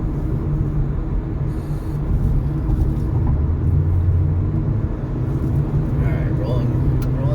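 A 2024 Mazda 2 1.3 petrol hatchback of about 90 horsepower accelerates, its engine a steady low drone with road rumble throughout, heard from inside the car.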